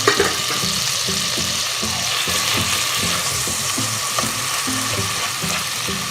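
Boiled chickpeas being stirred in a hot pan with a splash of their cooking water for Kathiawari chana, a steady sizzle with a regular scraping, stirring rhythm throughout, close and fairly loud, no talking.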